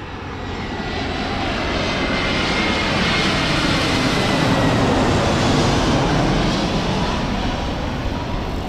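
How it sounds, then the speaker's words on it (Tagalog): An airplane comes in to land, its engine roar swelling into a loud, broad, continuous rumble that holds steady near the listener for the whole stretch. "Tugpa na ang aeroplano."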